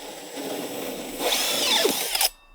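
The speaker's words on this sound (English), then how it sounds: "I've got another drill with just a 12 mil bit in there, and the aim with this one is I'm drilling all of the way through." A power drill fitted with a 12 mm bit bores all the way through wood, a steady whine that rises in pitch and strain as it cuts, then cuts off sharply when the drill stops.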